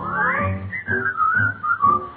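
Someone whistles a melody alone, close by, with clear wavering notes rising and falling in a steady, lilting rhythm.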